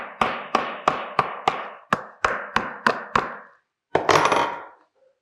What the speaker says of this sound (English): This time you have to use a hammer. You hammer even at the sides so that it will not open.